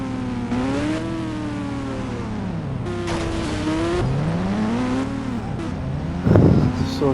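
A racing car in a video game speeds away from police, its engine revving steadily up and down with a brief tire-squeal burst near the end, loud and continuous.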